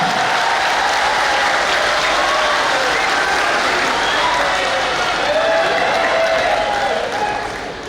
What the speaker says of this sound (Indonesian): Ibu Anissa Larasati Pohan Yudhoyono, tepuk tangan.